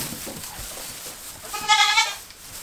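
A baby goat bleats once, a wavering, nasal cry in the middle of quiet background noise.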